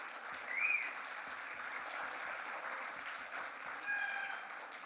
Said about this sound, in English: that's the kind of cheering we like